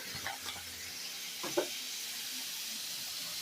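Onion and green chillies fry in a pan with a steady, even sizzle and hiss, broken by a few soft stirring clinks and scrapes.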